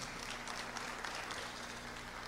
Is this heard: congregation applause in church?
yes